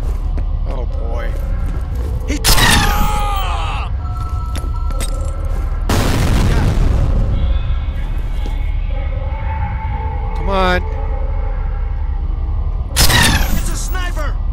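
Sniper rifle shots in the video game F.E.A.R., several loud cracking booms spread apart over a constant droning game background, with someone talking at intervals.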